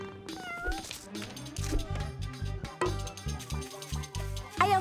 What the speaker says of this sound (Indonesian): Kau kucing nakal.